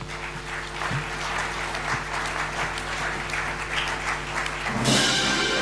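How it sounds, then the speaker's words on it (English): Applause from a congress audience greeting the Continental Directors, a steady broadband wash of many hands clapping at moderate distance, swelling slightly near the end, with no voices over it. "We probably need a little bit more of an enthusiastic applause for them"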